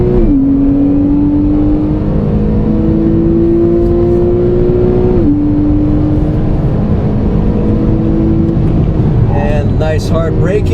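A Porsche 911 with PDK gearbox accelerates hard out of the pits onto a racetrack straight, its engine droning and climbing in pitch through several quick upshifts, loud and close from inside the cabin with someone talking over it.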